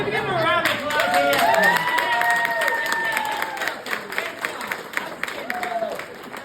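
Applause and cheering from an event crowd greet the flower man, loud and dense at first, then thinning out while whistles and voices rise over the clapping.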